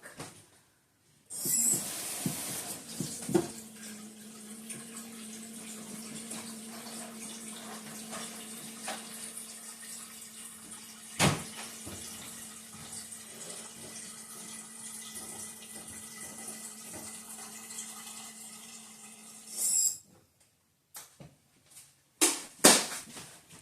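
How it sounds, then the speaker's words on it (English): Filtered water runs steadily from a kitchen sink tap for about eighteen seconds, a constant hissing stream with a low tone, opening and closing with sharp clunks of the faucet, with no speech. "I think I'll use filtered water from the sink"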